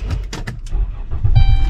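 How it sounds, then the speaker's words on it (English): A car engine cranks and catches, settling into a steady running hum with a faint whine toward the end, close by and fairly loud with no talk. "hopefully the car starts"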